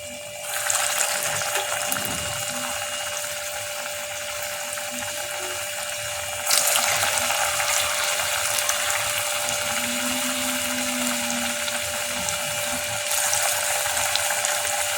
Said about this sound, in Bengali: একটা একটা করে ভেজে নিচ্ছি।